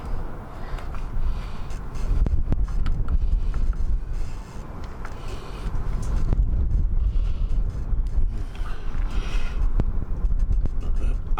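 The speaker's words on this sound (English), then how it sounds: "I do apologise for the wind, we're a little bit windy" Gusty wind buffets the microphone in the narrow gap beside a parked caravan, producing loud, low rumbling bursts that rise and fall in waves. Occasional knocks and clicks from handling sound between the gusts.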